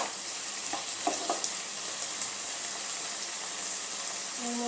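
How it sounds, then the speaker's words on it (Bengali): Bottle gourd and shrimp being stirred in a pan over a high flame, a steady close sizzle with a few scraping stirs standing out, no voices. "এবার ফ্লেমটা একটুখানি জোরে করে দেবো আর ফ্লেমে একটুখানি এটা নাড়াচাড়া করে নেবো"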